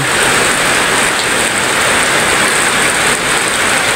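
Steady, dense rain falls on a garden during the rainy season, a continuous close hiss of drops with no pauses and no voices.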